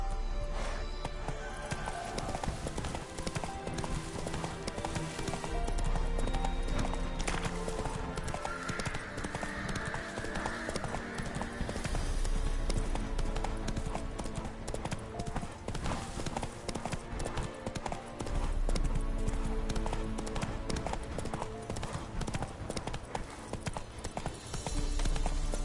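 Hooves of a horse pound in a fast, rhythmic clip-clop gallop through The Witcher 3 on PS4, loud and continuous with an occasional whinny, over game ambience and some faint talk.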